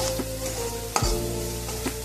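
Ingredients for sabudana pulao fry in hot oil in a pan, a steady close sizzle with a few scraping stirs and one sharper clatter midway, no talking.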